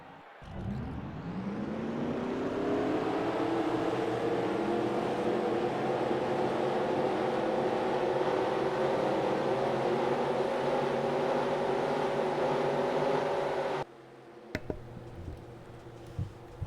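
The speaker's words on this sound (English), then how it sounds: "Drivers, start your engines!" Race car engines fire up and settle into a loud, steady roar in a racing video game at Bristol, holding for about thirteen seconds before cutting off abruptly, followed by a few faint clicks.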